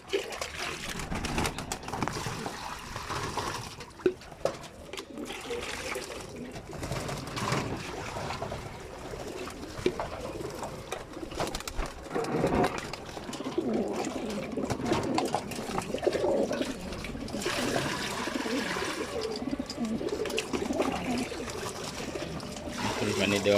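Pigeons bathe in a bucket of water, splashing and trickling steadily close by while soft coos come through, with someone talking over much of it.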